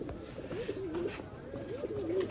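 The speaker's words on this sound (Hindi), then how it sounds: "ये चूहा कबूतर है" Soft, repeated coos from Sialkoti pigeons of the rare chuha (mouse-coloured, black-faced) breed, rolling in low, throaty phrases over a busy background of rustling and murmur.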